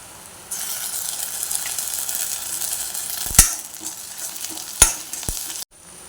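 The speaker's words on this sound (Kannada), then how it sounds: "ಎಲ್ಲ ಒಟ್ಟಿಗೆ ಹಾಕಿ ಫ್ರೈ ಮಾಡ್ತಾ ಇದ್ದೇನೆ ಈರುಳ್ಳಿ ಬೆಳ್ಳುಳ್ಳಿ ಎಲ್ಲ ಫ್ರೈ ಆಗಿದೆ" Onion, garlic and ginger-garlic paste fry in a pan with a steady close sizzle, interrupted by two sharp stirring clinks before the sound cuts off abruptly.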